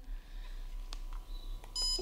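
A single short electronic beep from an iRestore Professional red light hair loss device as its pause button is pressed, near and clear over a faint steady hum, with a brief tonal chirp near the end.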